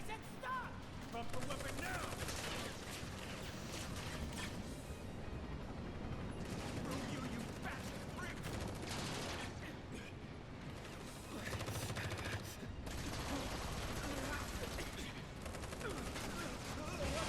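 Sustained gunfire in Final Fantasy VII Remake rattles on as dense, continuous bursts mixed with mechanical clatter and game effects, with voices speaking over the barrage.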